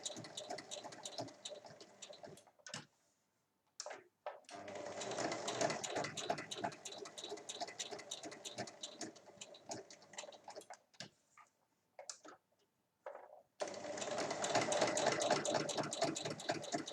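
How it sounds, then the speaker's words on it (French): A sewing machine stitches a fabric flap 1 mm from the edge on a chequebook holder, running in steady rapid bursts of close, mechanical needle clatter separated by short silent pauses. "je vais venir piquer la pâte donc à 1 mm du bord sur trois côtés"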